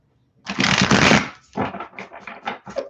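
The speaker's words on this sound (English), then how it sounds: "Okay, let's get a couple more shuffles going here," Tarot cards being shuffled up close: a long riffle followed by several shorter bursts of shuffling.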